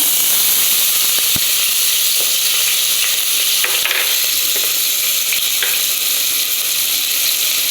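Onions sauté in hot oil with masala, giving a loud, constant sizzle and hiss with occasional clicks from stirring in the pan.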